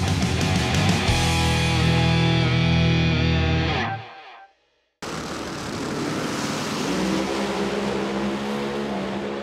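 A Pro Mod drag race car makes a full-throttle run at the Snowbird Outlaw Nationals, its engine blaring loud and distorted before cutting out abruptly, then a brief silence gives way to a rumbling roar from the track.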